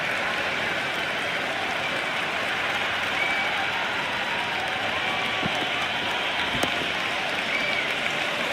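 A T20 cricket crowd at an India versus England match cheers and claps in a steady, loud, continuous wash of noise, with occasional sharper clap peaks.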